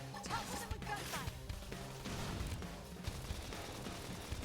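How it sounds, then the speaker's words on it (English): Gunfire in the video game Xenoblade Chronicles X: rapid bursts of shots and clattering impacts over a busy, mechanical battle soundscape, steady and dense for several seconds, with a voice faintly underneath. "Topple them with gunfire."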